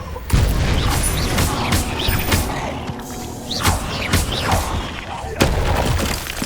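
Confringo fire spell blasts from the Hogwarts Legacy video game, several loud booming explosions at irregular intervals, with a voice shouting spell names amid constant combat noise.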